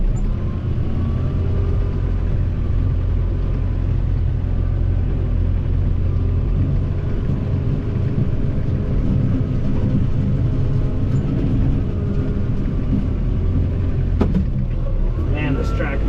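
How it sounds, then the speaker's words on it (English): A John Deere 4052R compact tractor engine labors steadily while grading a gravel lot, a constant low close rumble with a brief sharp clatter near the end. "Man, this tractor is struggling to pull some of this stuff up."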